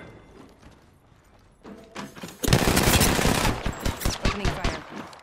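Gunfire in Apex Legends starts with a few quiet clicks, then bursts into loud rapid automatic shots that keep coming in close, punchy bursts until the end.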